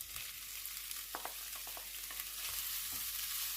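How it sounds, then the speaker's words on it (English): Chorizo and red pepper frying together in a pan give a steady, soft sizzle, with faint stirring clicks and scrapes near the start and middle, and no voices. "let's fry this all together"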